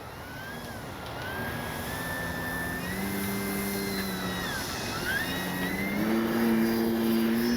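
A Hangar 9 J-3 Cub RC plane with a 10cc engine taking off on its maiden flight, giving a buzzing, rising engine whine that shifts pitch as the throttle changes and grows louder toward the end.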